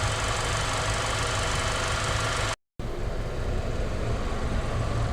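A Nissan Sentra engine idles steadily while warming up, a constant close mechanical hum with a faint knocking texture, broken by a brief moment of silence midway.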